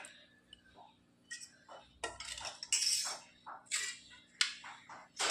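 A spoon scraping and clinking against a bowl while stirring salted curd with onion and chilli, a run of irregular sharp metallic taps and scrapes, close and fairly quiet.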